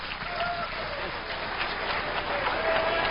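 Conference audience on their feet cheering and applauding for a speaker at a 2002 conspiracy convention, a steady dense wash of clapping with scattered shouts and whistles, loud and continuous throughout.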